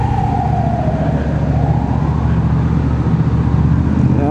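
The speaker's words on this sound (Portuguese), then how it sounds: "tem que deixar a ambulância passar" An ambulance siren wails through traffic on a road with motorcycles, its rising and falling tone clear and loud over a constant engine rumble and road noise, without talk.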